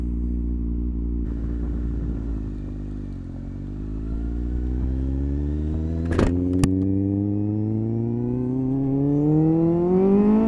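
A motorcycle ridden without protective gear through Belgrade Waterfront gives a steady, loud engine drone from up close, its pitch rising gradually under acceleration, with a couple of brief clicks midway and no talking.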